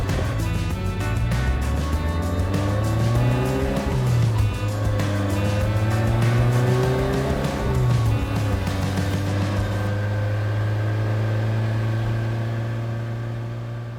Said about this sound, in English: The turbo spooling up